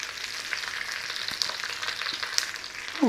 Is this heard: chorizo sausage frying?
yes